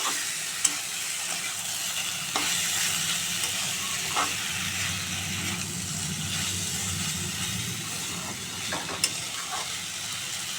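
Boiled taro stolons (lati) are stirred in a frying pan. A steady sizzle runs throughout, broken by occasional scrapes and clinks of the utensil against the pan. There is no talking.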